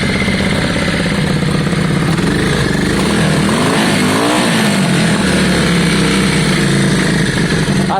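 A Yamaha Virago motorcycle engine, recently fitted with fresh spark plugs and a cleaned carburetor, revs loud and close. Its steady throbbing drone rises and falls in pitch through a revving sweep midway, with no talking.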